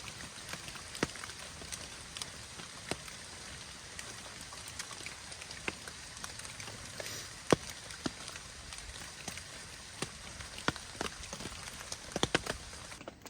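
Heavy rain pours onto a tent during fall camping in Weiser State Forest, a dense steady hiss with scattered louder drips and taps landing close by.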